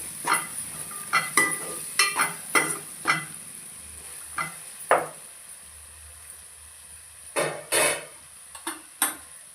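A spoon stirs cumin powder and garam masala into vegetable rice in a pot. It gives a series of close, uneven scrapes and clinks against the metal with short pauses between strokes, and no one speaks.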